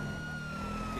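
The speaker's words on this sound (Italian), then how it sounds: "Accendo le sirene." Police car siren in GTA 5, a steady wail holding high and continuous through the whole moment, with a low rumble of traffic and engine beneath it.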